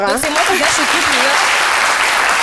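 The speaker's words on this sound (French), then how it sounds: "Jessica, on applaudit nos acteurs." A television studio audience applauds the actors, steady loud clapping running under someone speaking at the start.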